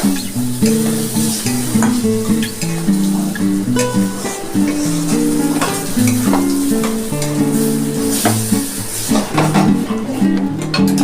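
Masala spice paste with green chillies sizzles and fries in a pan for egg kosa, stirred continuously with steady scraping strokes, loud and close throughout with no talking.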